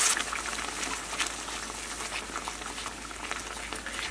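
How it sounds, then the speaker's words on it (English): Homemade water gravy of flour, fat, salt and water bubbles at a rolling boil in a pot, a steady close hiss and crackle with no voices. "Give it a minute to get a good rolling boil all the way across the top of it."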